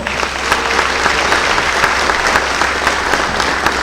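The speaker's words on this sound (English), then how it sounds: "Everybody, let's give the parents another round of applause." At a sports awards ceremony, an audience claps for the parents, a loud, dense and even burst of many hands with distinct sharp claps standing out near the front.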